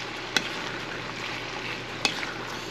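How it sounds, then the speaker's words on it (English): Oyster mushrooms cook with onions and garlic paste in a pan. A soft, continuous sizzle runs underneath, broken by two sharp clicks of a utensil against the pan, heard up close with no talking. "let the mushrooms saute with the onions and garlic paste"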